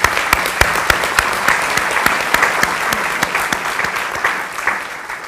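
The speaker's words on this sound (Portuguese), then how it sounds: "Uma salva de palmas, por favor." An audience claps for Cristiana Sabino as she is called up to read at a Sérgio Godinho book event in Porto: a steady, fairly loud patter of many hands with a few sharp, distinct claps standing out near the front, fading slightly toward the end.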